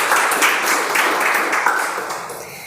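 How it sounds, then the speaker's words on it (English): An audience applauds speakers at a meeting, with steady, even clapping from many hands at moderate loudness that fades slightly toward the end. "Can we have a round of applause for amazing speakers that we had"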